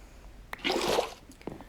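Water scooped up with a bucket in Minecraft SkyFactory 4, a short liquid slosh and squish lasting under a second, close and fairly soft.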